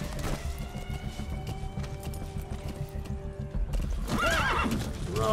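D-Horse, the rideable horse in the video game Metal Gear Solid 5: The Phantom Pain, gallops with steady clip-clopping hooves, then lets out a loud, close whinny near the end.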